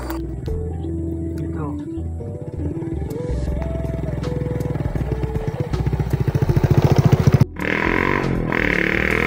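A motorcycle rides along a rural provincial road, its engine droning and shifting pitch as it accelerates, with a rapid pulsing rattle building before a sharp cut, and voices talking over it.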